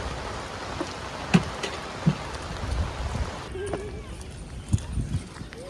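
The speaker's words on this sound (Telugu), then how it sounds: "వర్షం స్టార్ట్ అయింది పెద్దగా ఇప్పుడే కొంచెం" Light rain begins to fall outdoors near the Red Fort area of New Delhi, a soft steady patter with a few sharper drops tapping nearby surfaces.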